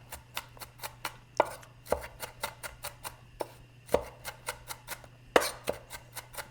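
A knife chops a peeled red onion on a cutting board in a run of crisp, fairly even strokes, with a few louder thuds among them, close and unaccompanied by talk.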